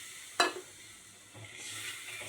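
Water poured into a pan of sizzling fish curry masala gives a sharp hissing burst, then settles into a steady, softer sizzle.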